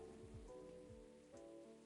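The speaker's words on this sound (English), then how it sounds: "Ooh, 24-hour rain." Steady rain ambience from the video game Coffee Talk, a continuous soft hiss of falling rain with gentle low rumbling underneath, constant and even throughout.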